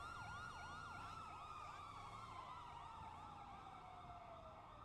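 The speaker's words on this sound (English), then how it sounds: "Sorry, I can't hear you over the siren." An emergency siren wails with a rapid warbling yelp that slowly drops in pitch as it moves away, heard alone and faintly over low street rumble.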